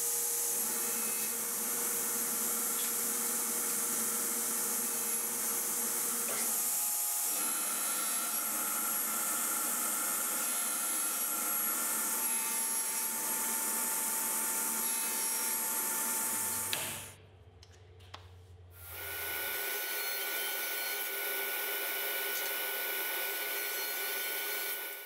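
A woodworking saw cuts boards for a wooden desk tray: a steady, loud whining tool noise runs continuously, stops briefly near the end, then resumes at full strength.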